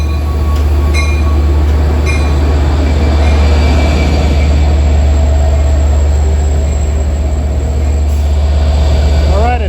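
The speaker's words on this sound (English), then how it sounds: "Here's the equipment for train 664 pulling in, bound for Port Jeff, with number 521." A Long Island Rail Road commuter train bound for Port Jefferson pulls into Long Island City station, a loud, steady rumble of rolling cars with a constant low engine drone, wheel noise and faint squeals near the end.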